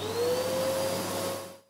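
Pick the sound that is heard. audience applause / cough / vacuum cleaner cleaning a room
vacuum cleaner cleaning a room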